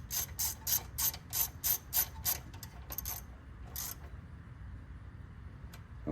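A hand ratchet running in a brake hose support bolt during a front strut replacement on a car: a quick series of close, sharp clicking bursts, then a few scattered clicks and quiet.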